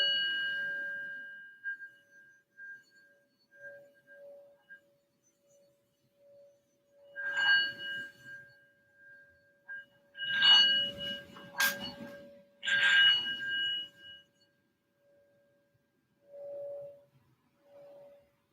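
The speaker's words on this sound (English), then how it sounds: "So I'll gently ring the bell to draw us in." A meditation bell is rung gently to open a yoga practice, giving a few soft, clear rings with a long sustained tone that fades into quiet.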